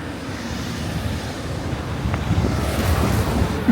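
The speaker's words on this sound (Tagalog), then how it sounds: "Dito na naman, malakas na hangin." Strong wind gusts buffet a microphone outdoors in snowy Sapporo, a rough continuous roar with low rumbling thumps that swell slightly toward the end, with no talking.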